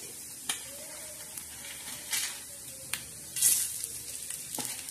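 Whole spices (khada masala) dropped into a hot pan with roasted coriander seeds give off a low, steady sizzle. Sharp crackles and pops break through it as the spices are stirred.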